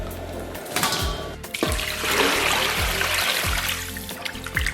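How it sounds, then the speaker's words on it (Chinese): Water runs and splashes over boiled pork belly being rinsed clean, a steady close trickle and spatter with a few low thumps of the meat shifting, no voices. "然后咱们把五花给它清洗干净"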